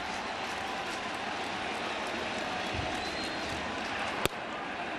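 Crowd noise fills a baseball stadium during a Mets vs Phillies NLDS playoff game after back-to-back Phillies home runs, a steady broad roar of fans throughout with one sharp bang near the end.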